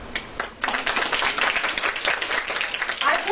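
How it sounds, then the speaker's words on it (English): Audience applause at a governing body members' meeting: a dense, sustained patter of many hands clapping together, steady and fairly close, with no voices over it. "we need audience to clap as well"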